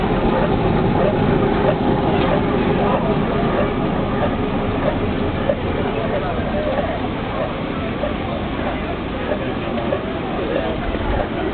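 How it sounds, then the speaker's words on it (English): A hot air engine turning over slowly at about 50 rpm at a railway gala in Moors Valley, Dorset, gives a steady, rumbling mechanical drone throughout, with murmuring voices in the background. "Engine at present is turning over at about 50 revs per minute."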